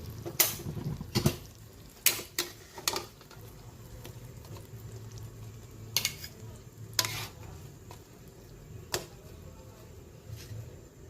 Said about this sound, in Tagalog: Hanguin na natin piprito na tayo.